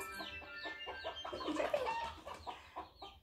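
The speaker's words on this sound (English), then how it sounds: "Chickens have peeps where they can get loud." Several chickens cluck in short, irregular bursts, fairly faint and close together, with a busy farmyard texture and no talking.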